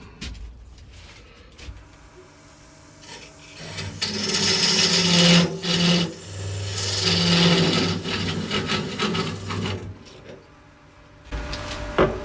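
A 1/16 inch parting tool cutting into wood spinning on a lathe while a lidded ball box is turned, a rasping scrape that swells and fades over several seconds, close by, with brief talk at the start and end.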